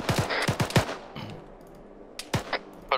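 Machine gun fire in the video game Arma 3 during a military simulation: several sharp bursts up close, with a lull before another short volley, loud and punchy.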